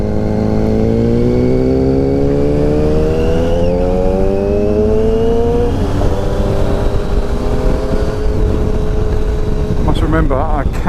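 Triumph Tiger adventure-tourer motorcycle ridden on a twisty road behind a truck, its engine droning loudly throughout with several rising and falling pitch sweeps as the rider works the gears, steady close wind and engine noise with no talk.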